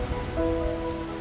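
Steady rain falls in the video game Wuthering Waves, an even, close patter that fills the moment alone, with faint sustained tones running beneath it.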